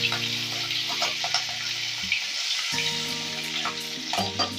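Dried red chillies and crushed green chillies sizzle and crackle in hot oil while something is stirred, with a steady frying hiss, scraping clicks, and a tonal hum from a kitchen appliance that cuts out and returns.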